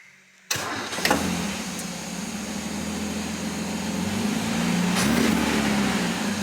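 An Austin Healey engine cranks briefly and catches, then settles into a steady, rumbling idle close by, with no talking.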